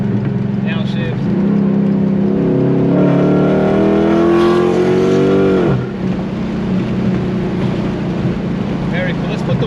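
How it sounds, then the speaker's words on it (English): A 2006-2010 Dodge Charger engine loudly revs and drops as a paddle-shift downshift blips the throttle, the pitch sweeping up then falling sharply, heard from inside the car with steady road and cabin noise throughout. "Downshift."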